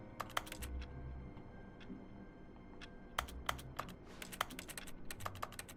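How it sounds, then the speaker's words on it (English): Keyboard typing in a video game office scene: quick, crisp key clicks come in irregular bursts with short pauses between them, close and fairly quiet, over a low hum and with no talking. "Typing."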